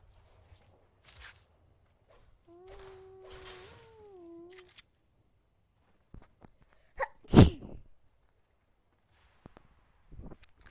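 A single sharp sneeze bursts out close and loud in an otherwise quiet room, after a brief meow-like tone and a few soft rustles.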